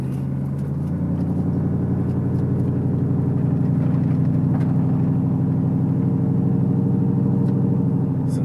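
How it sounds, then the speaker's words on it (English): A steady low engine rumble holds throughout, a truck passing close by on a dirt road at an even, loud level with no talking. "here comes a truck"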